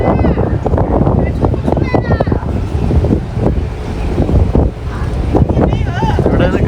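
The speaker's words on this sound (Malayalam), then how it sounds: "ഇവിടെ നല്ല കാറ്റുണ്ട് ഇതിൻ്റെ മുകളിൽ" Strong wind buffets the microphone on the upper deck of a large ferry bound for Koh Samui, a steady roar with gusts throughout and faint voices mixed in.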